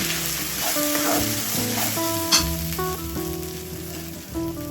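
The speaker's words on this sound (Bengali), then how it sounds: "এই কড়াইশুঁটিগুলোকে আমি ভালো করে ভেজে নেব," Green pea paste fried in a wok, a loud continuous sizzle and crackle heard up close, with occasional stirring scrapes throughout and no one speaking.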